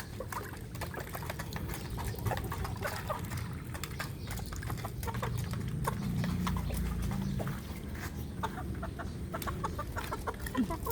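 Chickens cluck and scratch around as they are fed, a busy flurry of close clucks and rustling over a low, steady background rumble, with no talk.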